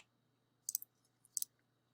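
Quiet computer mouse clicks while unchecking a box on a website: two short, crisp double clicks spaced about half a second apart over near silence.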